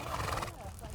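A horse neighs on a ranch, a short whinny heard up close with a voice talking over it.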